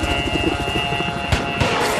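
A helicopter in the Battlefield 4 video game churns with steady, loud rotor chop and whine, punctuated by a couple of short impact thumps near the end.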